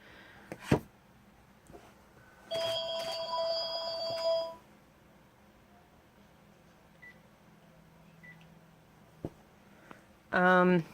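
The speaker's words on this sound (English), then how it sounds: "Sorry about the phone there." A household telephone rings in two short electronic bursts, one early and one at the end, sounding moderately close. Scattered clicks and quiet background noise fill the gap between them.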